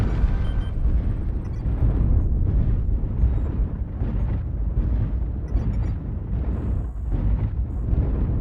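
Clan class 2 autocannons firing in MechWarrior Online, a dense run of heavy booming shots merging into a continuous loud roar with no talk.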